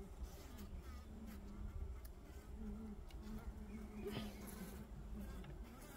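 Honey bees buzz around opened beehives in a steady, droning hum with individual insects passing close to the microphone, sustained at moderate loudness for the whole stretch.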